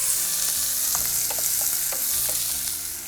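Chopped onions frying in hot oil with mustard seeds and urad dal, a steady dense sizzle with occasional stirring scrapes and pops, close and continuous throughout.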